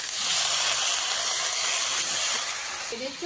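Malabar spinach added to a hot pan of fried prawns and green chilies, giving a loud, steady sizzling hiss that runs the whole time.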